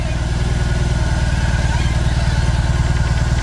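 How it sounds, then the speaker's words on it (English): A BMW R 18 B motorcycle backs up under its own reverse feature, its engine running with a steady, close, low thumping pulse throughout and no talking. "just little taps and you're able to back the bike up"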